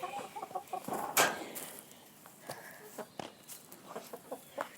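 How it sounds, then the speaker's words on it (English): Wild chickens on a farm clucking in short, repeated bursts, with one sharper squawk early on, heard fairly faint and close amid a quiet outdoor background. "There's the other wild chicken right there."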